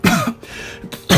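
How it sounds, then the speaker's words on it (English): A man's harsh cough and throat clearing, loud and close, with a short burst at the start and another sharp one at the end, separated by a quieter gap. "How long have you had that cough?"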